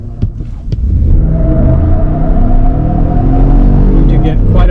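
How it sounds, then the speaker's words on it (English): A 2023 Ford F-150 Tremor with a V8 launches hard, its engine rising from a low rumble into a strong, steady roar heard from inside the cab, with a few clicks just before it pulls away. "V8, you get a lot better engine note, and you know, just that perspective of driving a big V8 truck. I'm gonna show you kind of a launch here."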